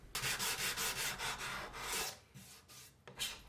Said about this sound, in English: the cabinet scraper makes pretty short work of it